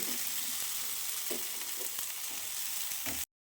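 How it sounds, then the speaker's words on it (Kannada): Hotel-style masala-coated jilebi fish fry sizzles in a pan, a dense, steady, close hiss with occasional soft crackles that stops abruptly. "ಈ ಥರ ಎರಡೂ ಸೈಡ್ ಹಾಕಿದರೆ ಮಸಾಲೆ ಫ್ರೈ ರೆಡಿ"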